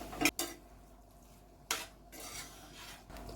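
Egg bhurji, Indian-style scrambled eggs with a little black pepper, stirred in a pan: two sharp scrapes of the spatula against the pan stand out, with a light rustle of stirring between them. Close, with no talk.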